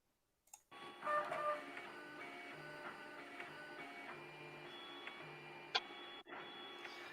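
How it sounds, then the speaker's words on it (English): A homemade belt 3D printer runs close by, its stepper motors whining in steady, shifting tones with faint repeated ticks and one sharp click, alone without talking. "It's a homemade belt 3D printer."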